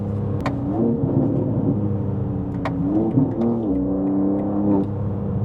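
A BMW M2's inline-six engine revs repeatedly, rising and falling in pitch with a smooth, close rumbling tone, heard alone without talk.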